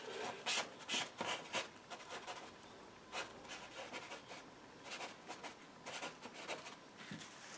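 Quiet scraping and rubbing of a tool across an oil painting of summer leaves, a run of short dry strokes in irregular bursts, close and alone.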